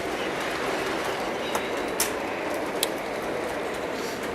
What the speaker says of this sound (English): It's hard when you got train coming one way and you're trying to move the consist.